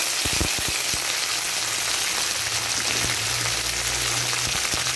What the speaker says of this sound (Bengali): দিয়ে একটু ভালো করে নাড়াচাড়া করে একটু ভেজে নেব।